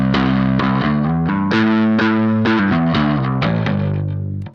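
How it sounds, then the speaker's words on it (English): A Beetronics Nectar fuzz and overdrive pedal set to overdrive mode with every control at half, driving a guitar through a steady run of loud, sustained, crunchy chords and notes that ring out and fade at the end. "Let's go ahead and flip it over to the overdrive mode."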